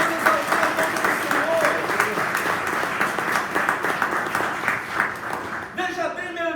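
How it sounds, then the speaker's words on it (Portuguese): A church congregation applauding during a worship service, a steady wash of clapping running throughout with a preacher's voice over it. "Pode aplaudir, pode exaltar o nome do"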